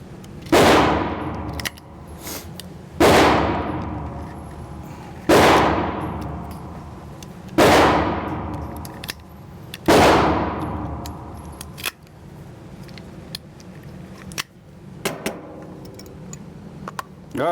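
Hi-Point 1095ts 10mm carbine, new out of the box, firing at a shooting range: five loud, evenly spaced shots with ringing decay, followed by quieter clanks and handling clicks.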